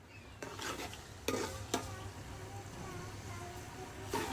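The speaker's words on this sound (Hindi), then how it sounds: "तो गाइस यहाँ पे हम प्याज को फ्राई कर रहे हैं।" Onions frying in a pan, with a steady sizzle running throughout, a few sharp stirring clatters near the start and end, and low background noise.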